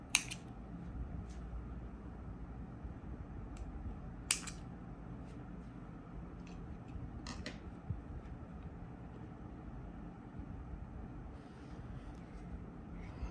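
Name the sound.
scissors cutting crochet yarn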